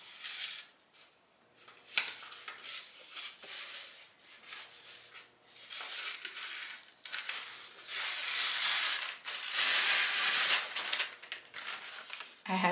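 Sublimation transfer paper is peeled off Dollar Tree faux leather in a series of crackly, hissing tearing bursts, growing louder and longer toward the end, with no talk over it.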